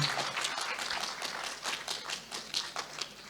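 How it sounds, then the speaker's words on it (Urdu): An audience at a talent awards ceremony in Pakistan applauds as a guest arrives, brisk clapping that is lively at first and then thins and tapers. "انہوں کے لیے ذرا بھرپور تالیاں دی"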